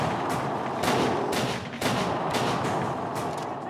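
Gunfire in the horror video game Call of Cthulhu: Dark Corners of the Earth, a rapid series of loud, sharp shots, roughly eight blasts in close, uneven rhythm over a noisy backdrop, with no speech over them.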